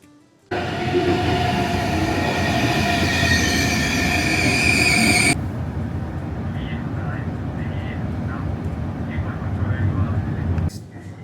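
A train rumbles loudly into the station, wheels screeching with a high metallic squeal that suddenly stops, leaving a lower rolling rumble and faint voices.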